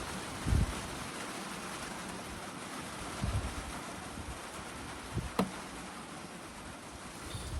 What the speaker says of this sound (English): Y'all hear that rain hitting on this building?